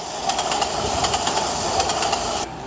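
A fast-moving train gives a steady loud roar marked by quick rhythmic clacks, then cuts off abruptly just before the end.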